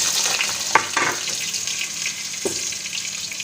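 Potatoes frying in ghee with cumin and garlic: a steady hiss with a few scraping knocks of a spoon in the pan early on and one more near the end, no talking.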